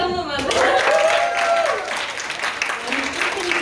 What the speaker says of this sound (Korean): 한번 박수 다시 한 번만